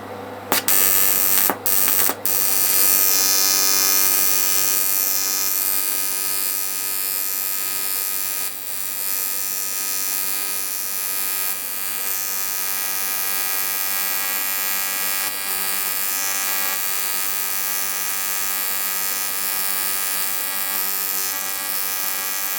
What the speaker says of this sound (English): It's pretty horrible-ish when it is welding.